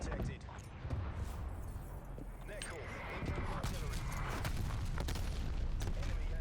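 Artillery explosions rumble through a Call of Duty: Black Ops Cold War match, a steady low booming bed with scattered sharper gunfire cracks, partly under players talking.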